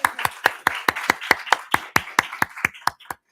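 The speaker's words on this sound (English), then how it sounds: "Yes, please applaud." Applause at a youth-led regional session, heard as a few hands clapping in a sharp, regular rhythm of about a dozen distinct claps that stop abruptly near the end.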